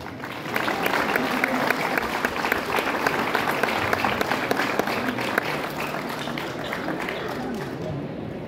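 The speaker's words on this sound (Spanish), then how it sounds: "la palabra al prefecto general Ramón Silva, para quien les pido un fuerte aplauso." A crowd at a municipal government ceremony in Huauchinango gives loud, sustained applause for about eight seconds, a dense steady wash of clapping that fades slightly at the end.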